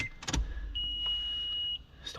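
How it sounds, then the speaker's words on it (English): Inside an FJ vehicle with a newly fitted radio and fascia kit, a high, steady electronic beep sounds clearly for about a second after a few short clicks, with a low cabin hum beneath. "Stop beeping."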